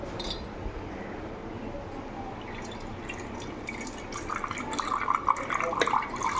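Water poured into a jar while making a jelly mojito drink, a soft steady splashing and trickling with faint glassy clinks that grows a little busier toward the end, heard fairly quietly.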